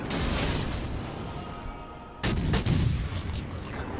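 Naval guns firing armour-piercing shells in the World of Warships Legends game, played aboard the destroyer Le Fantasque: a steady rumbling engine and sea bed gives way to a sudden loud salvo of booming shots, followed by several more sharp reports.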